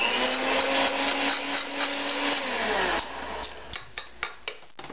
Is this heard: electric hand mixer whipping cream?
yes